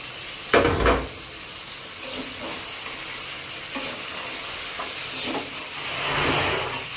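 Chicken and potatoes sizzle and fry in a hot pan, with occasional scraping stirs and bursts of hiss over a steady crackling background.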